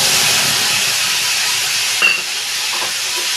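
Spices such as cumin, coriander, green chilli and ginger stirred in a frying pan with potatoes, giving a steady hissing sizzle and a brief scrape of the spoon.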